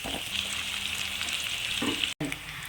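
Sliced onion, four chillies and curry leaves fry in oil in a pan for semiya biryani, giving a close, steady sizzle with brief stirring scrapes.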